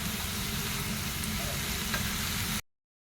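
Fish roe and banana flower curry with green chilies being stir-fried in a pan, a dense continuous close sizzle with rumbling, which stops abruptly near the end.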